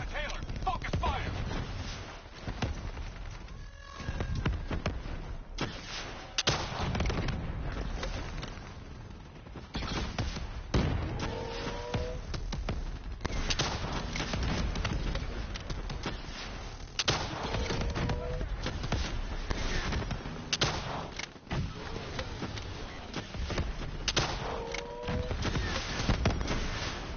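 Gunfire in the Black Ops 3 campaign video game, with repeated bursts of shots and impacts in a dense, ongoing firefight. Muffled game voices are heard between the bursts.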